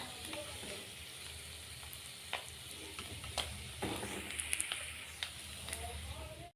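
Fish fry in oil in a home kitchen pan, a steady crackling sizzle with scattered sharper pops and spatters running throughout, close and moderately loud.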